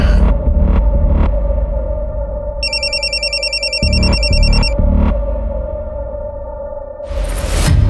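A telephone ringing in an unanswered call, a repeating electronic ring tone pulsing over a loud droning hum and background tension, with a burst of noise at the end.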